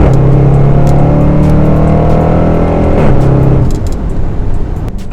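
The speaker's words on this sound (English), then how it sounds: "the sound that comes out of the back of the exhaust of this car" A Land Rover Range Rover Sport SVR's exhaust roars up loud and close, the engine note climbing steadily in pitch, then dipping and settling back into a rough, burbling idle.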